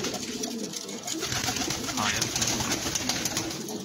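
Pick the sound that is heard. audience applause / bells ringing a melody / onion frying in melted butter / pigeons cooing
pigeons cooing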